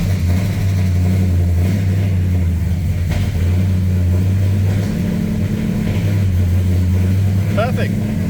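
Engine running after a cold start with the choke on: a loud, steady low rumble that holds fairly even, with a slight dip and shift in pitch midway; no voices over it.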